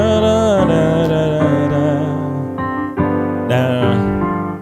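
Keyboard plays the chord progression of the gospel song Too Faithful with a right-hand lick, sustained chords shifting every second or so beneath quick melodic flourishes, loud and close with no talking.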